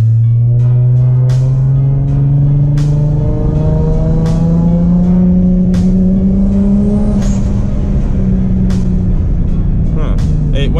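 A rear-mount turbo Infiniti G35 engine revs steadily during a boost test, a loud sustained drone that climbs slowly in pitch, with sharp clicks and pops scattered throughout.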